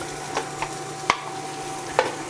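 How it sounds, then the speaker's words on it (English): Carrots sautéing in a hot pan over aggressive heat give a faint, steady sizzle, broken by a few sharp clinks and scrapes of stirring, with no talking. "I'll start sauteing some of these carrots right away, because these are obviously take a little more time because they're harder"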